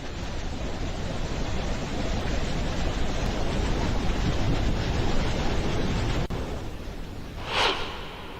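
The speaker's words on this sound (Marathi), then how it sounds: "जोग धबधबा असं त्याचं नाव आहे." Jog Falls waterfall in Shimoga, Karnataka, swollen by monsoon rain, roars as a loud, steady broadband rush of falling water without a pause, with a brief gust or hiss near the end.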